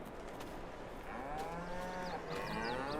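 Cattle moo on a video game farm, several drawn-out calls overlapping at low volume against a soft ambient bed, with faint bird chirps near the end.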